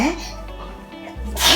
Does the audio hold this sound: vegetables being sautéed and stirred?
no